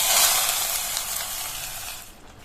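Hot tempering of dried chillies and asafoetida sizzles steadily in a small pan, a dense bright hiss that holds loud and close before fading slightly, for a cabbage kootu.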